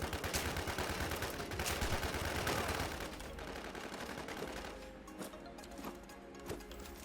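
Rapid automatic gunfire from a magazine being emptied in the survival shooter WarZ, a dense continuous burst that fades into scattered fainter shots and mechanical clatter, heard alone without speech.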